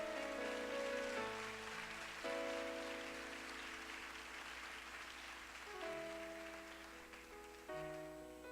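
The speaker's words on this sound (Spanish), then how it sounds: "Puedes aplaudirle con gozo" Church congregation applauding during a sermon, soft continuous clapping beneath sustained organ or keyboard chords, fairly faint and distant.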